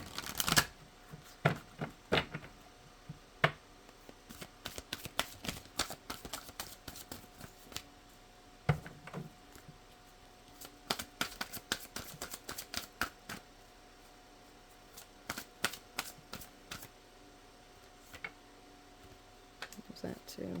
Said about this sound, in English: let's pull a native spirit card or two.